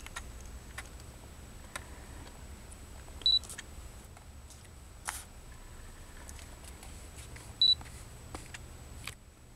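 A Canon EOS M camera fitted with a Fotodiox EF lens adapter switches on in a quiet room, giving two short, faint electronic clicks several seconds apart over soft background hiss.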